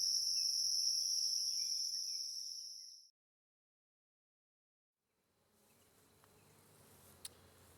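Honeybees from a nucleus hive in a green box hum steadily and fairly loud for about three seconds, fall silent, then return as a fainter, more distant buzz with a sharp click near the end.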